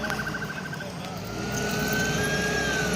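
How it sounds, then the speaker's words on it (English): Emergency vehicle sirens wail from a distance near a highway construction site, a steady rising and falling tone over traffic rumble, growing slightly louder while people talk nearby. "I hear sirens. They're coming down this way."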